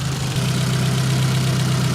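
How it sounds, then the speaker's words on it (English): A Nissan 200SX engine idles with a low, steady hum that stutters intermittently, close and loud with no talk. "Like intermittently stuttering. Definitely intermittent stutter there."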